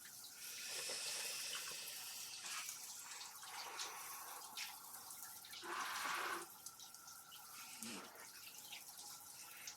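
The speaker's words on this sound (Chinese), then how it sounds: "我两个腿一起冲吧" Cold water pours from a tap or shower over both legs after an 18 km run, a steady faint splashing rush that shifts as the stream moves, with a few louder gushes and no talking.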